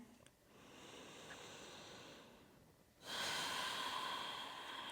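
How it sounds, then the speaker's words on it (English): Deep breaths during a yoga session, one long slow inhale followed by a louder, breathier exhale, close and soft with no talking. "just take 1 or 2 big breaths here"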